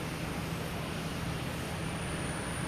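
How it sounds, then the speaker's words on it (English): A JetBlue airliner taxiing out toward the runway at Boston Logan Airport, a steady distant engine drone with a constant high whine, no talk. "We have a JetBlue heading out to Runway 9, heading to Orlando."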